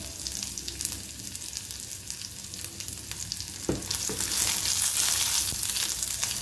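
Red chili frying in hot oil with cumin seeds and chopped garlic, a steady close sizzle with a sharp burst of crackling partway through as the chili hits the pan, then louder continuous spattering.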